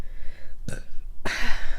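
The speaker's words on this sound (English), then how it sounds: "I didn't mean to burp in the mic." A burp lets out close into a streamer's microphone during a live gaming talk show, one short guttural burst followed by a second, louder one.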